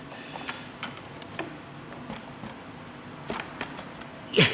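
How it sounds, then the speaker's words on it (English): A plastic slat is fitted into a Ford Mondeo grille shutter mechanism, with scattered faint plastic ticks and handling noises, then one sharper, louder snap as it clicks into place at the end. "I shall pop this one in."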